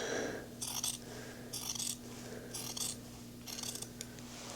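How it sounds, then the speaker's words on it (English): Scissors cutting fabric for a sewing pattern: four evenly spaced snipping strokes, close and crisp, over a low steady background hum, with no talking. "you're just gonna slowly cut and even it out."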